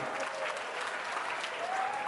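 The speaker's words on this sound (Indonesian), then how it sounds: "Tepuk tangan sekali lagi." Audience applause at an Indonesian Independence Day school ceremony at an Islamic school, a steady wash of many hands clapping with no voices, filling the short stretch at an even level.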